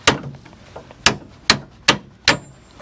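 A hammer strikes the metal drum of an 80-ton crane in four sharp, loud, evenly spaced metallic blows after an initial knock, ringing briefly in a workshop.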